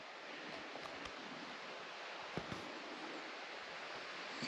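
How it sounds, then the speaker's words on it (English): Creek water flowing at night near a cabin on a property's northern side, a faint, steady broadband rush that continues evenly and unbroken, with nobody speaking. "You can really hear the creek going over there at night"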